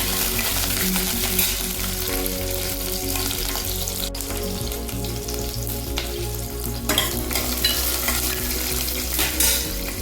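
Four green chillies and two cut garlic cloves sauté in a pan for Kumbakonam kadappa, giving a loud, continuous close sizzle with occasional scraping stir strokes and light utensil clinks; no one speaks.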